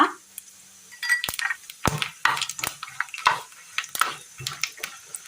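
Dried red chilies, fennel seeds, cardamom and cinnamon go into hot oil for a Kerala curry, giving light crackling and sizzling broken by sharp metallic clinks and taps of a spoon against the pan; no voices.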